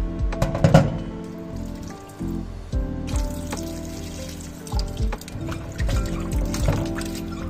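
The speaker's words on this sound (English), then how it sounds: "I'm going to rinse this with a vinegar solution to cut the rawness" Raw chicken pieces rinsed under running water with a vinegar solution in a kitchen sink, liquid splashing and trickling with some clattering in an uneven stream, fairly close.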